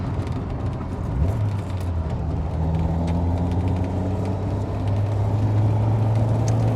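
A Toyota AE86 with a 4AGE engine and six-speed gearbox drives through a residential area and makes a left turn, its engine droning steadily close by, rising in pitch as it pulls away, with no talk.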